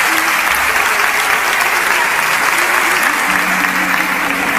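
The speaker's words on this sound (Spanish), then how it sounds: "Un aplauso para ella." Loud, dense applause from the audience at a national copla singing contest in Córdoba, a continuous even roar of clapping with no break across the whole span.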